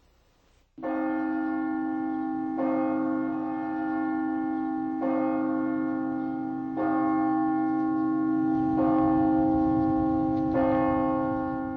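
A large church bell tolls repeatedly at 6 p.m. in June 1987, at steady intervals, its rich harmonic tone ringing and sustaining between strikes, loud and close with no talking.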